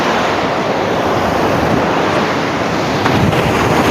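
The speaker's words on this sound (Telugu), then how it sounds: "వేవ్స్ చాలా పెద్దగా వస్తున్నాయి" Large ocean waves crash onto the shore at night beside mountains, a loud, continuous roar of surf with wind buffeting the microphone throughout.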